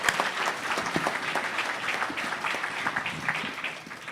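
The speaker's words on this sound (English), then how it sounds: "Another round of applause for you." Sustained clapping from an audience at a Hall of Fame induction ceremony, steady and dense for several seconds before tapering slightly at the end.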